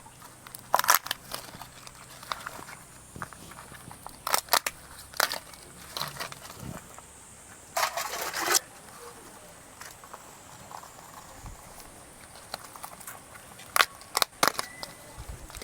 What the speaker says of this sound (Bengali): এবার আমি কাঁকড়াটা কেটে নেব।